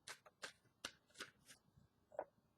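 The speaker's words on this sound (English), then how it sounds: "just bear with me while I shuffle" A deck of angel romance cards is shuffled by hand, producing a series of soft, quick riffling bursts at a steady rhythm, quiet and close, with no talking.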